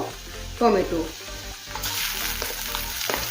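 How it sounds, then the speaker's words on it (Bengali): Ginger garlic paste hitting browned onions in hot oil for Bengali ghugni, a sudden louder sizzle burst then steady frying with spoon stirring, close up, no talk. "পেঁয়াজটা হালকা লাল করে ভেজেছি, এখন দেবো আদা রসুন পেস্ট মিলিয়ে 1 চামচ।"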